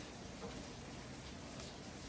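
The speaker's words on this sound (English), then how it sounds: "It's literally raining so much outside" Heavy rain makes a faint, steady hiss, an even wash of patter heard from a distance without any voices.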